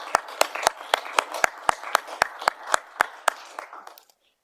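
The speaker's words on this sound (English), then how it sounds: "Let's give them a big round of applause." A handful of people at a council meeting clapping, about a dozen sharp, distinct claps in a fairly regular rhythm that thin out and stop abruptly before the end.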